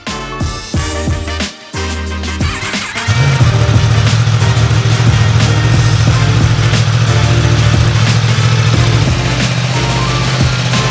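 A brand new Yamaha R1M superbike on a dyno, fired up after some mechanical clatter, then settling into a loud, steady high idle that holds for several seconds while warming up.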